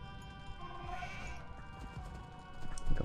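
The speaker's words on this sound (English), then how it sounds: "I saw some extra goats there as well." Sheep or goat bleats in Age of Empires 2, short livestock calls rising near the end over a steady layer of in-game ambience and music.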